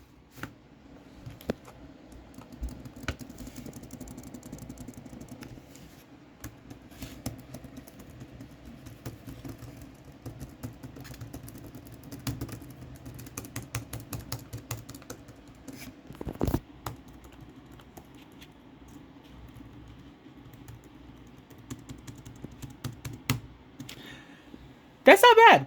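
Keys click on a Samsung Galaxy Tab S8 Ultra keyboard in light, uneven taps, a faint steady patter of typing under someone talking, ending in a louder rustle.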